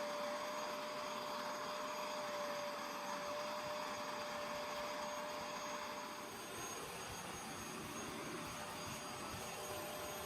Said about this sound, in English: I'll leave a link in the description below of the carpet cleaner that I'm using